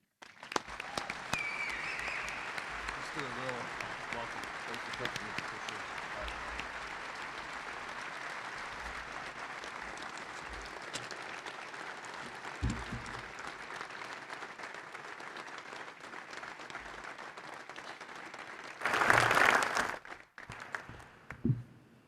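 Sustained applause from a press conference audience welcoming new basketball coach Chris Beard, steady clapping for about eighteen seconds, rising to a louder burst near the end before fading.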